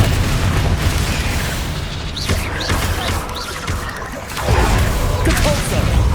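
Confringo fire spell explosions in the Hogwarts Legacy video game, a dense rumbling barrage of booms and bursts with rising magical whooshes, ending in a fresh heavy blast.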